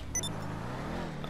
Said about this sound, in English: Muscle cars, whenever you launch them, they actually go up.